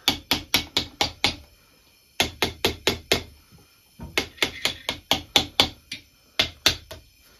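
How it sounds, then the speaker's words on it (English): A piston is tapped down into a Jeep stroker engine block during a bottom-end rebuild: sharp, close knocks in three quick rhythmic bursts of about five to eight taps each, with short pauses between bursts. "I'm going to drive this piston in"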